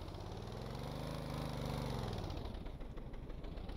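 A boat engine in the video game Stormworks runs steadily and loud, its pitch rising and then falling as the revs climb toward the throttle setting, a continuous mechanical drone with no voices.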